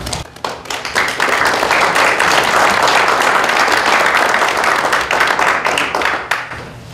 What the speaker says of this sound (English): If you could please reserve your applause until all of the members are present.